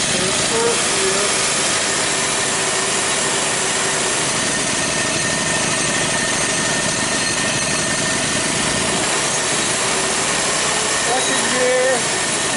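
An older vehicle running on a road test in first gear gives a loud, steady engine drone with hiss and mechanical rattle throughout, close up and continuous.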